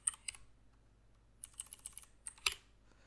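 Quiet bursts of computer keyboard typing, quick clusters of light key clicks separated by brief pauses, set against a low steady hum.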